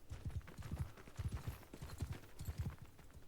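Horse hooves clop in quick, even clusters during a video game match, a rhythmic trot that stays at a moderate distance across the stretch with no speech.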